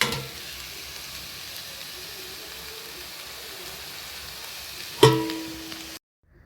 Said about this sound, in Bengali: আর এখানে হচ্ছে আলু কুমড়ো ভাজা রাতের জন্য।